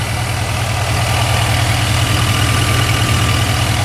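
A 2024 Chevy Silverado 2500HD diesel engine idles steadily and loudly up close, with a low, even rumble and a faint knocking clatter that never changes for the whole stretch.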